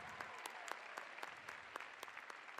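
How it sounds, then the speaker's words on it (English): Faint, distant applause at a gathering thanking attendees, thin scattered claps with a few sharper hand strikes standing out at irregular intervals, with no talking. "So huge round of applause for everyone that came out today."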